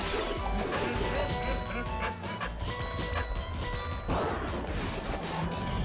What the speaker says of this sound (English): it never gets old throwing a videotape and then smashing somebody's window with it